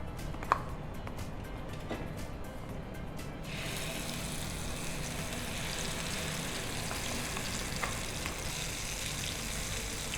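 Mackerel coated in masala is dropped into hot oil, and after a quiet start a steady, crackling sizzle rises suddenly and continues evenly at close range.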